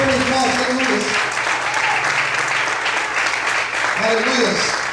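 A church congregation applauding together, a dense sustained wash of clapping lasting throughout, with voices and a low musical tone underneath.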